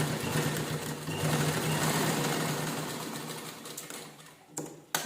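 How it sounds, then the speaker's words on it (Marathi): Sewing machine stitching two layers of saree fabric, a steady close mechanical whirr with rapid needle chatter that runs continuously, eases slightly, then stops near the end with a couple of short bursts. "आता ह्याच्यावर आपण स्टिच करून घेऊया"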